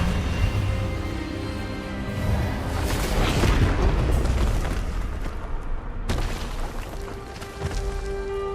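A spell-casting blast in a Harry Potter video game, a dense booming burst that swells over a sustained magical rumble and crackle, loud and close, with a sharp second impact near the end.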